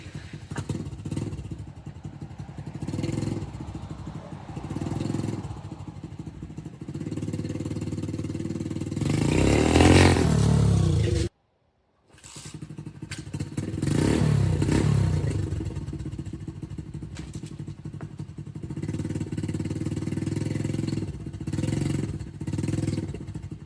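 A motorcycle that is running poorly accelerates hard off the line, its engine rising to a loud revving peak before a brief cutout, then picking up again and droning on steadily.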